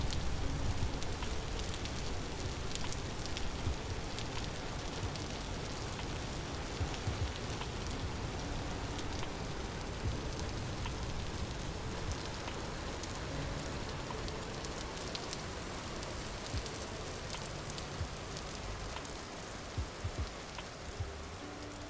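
Rain falling in the video game Vintage Story, a steady dense hiss of rainfall that holds evenly and fairly loud for the whole stretch, with scattered drop patters and no voices.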